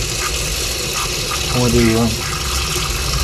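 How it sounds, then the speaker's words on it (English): Water runs and gushes from a tap as a caravan's hot water service fills after storage, a steady close rushing with a brief rising gurgle midway and faint talk beneath. "So I've just got that on hot, so I'm filling up hot water service at the same time."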